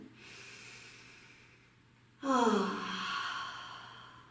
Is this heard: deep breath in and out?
yes